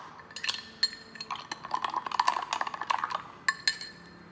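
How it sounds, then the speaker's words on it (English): Quick stirring of hemp protein powder in a glass, heard as a run of light clinks and taps of a spoon against the glass, close and fairly quiet, with no talking. "I'm just going to stir it really fast"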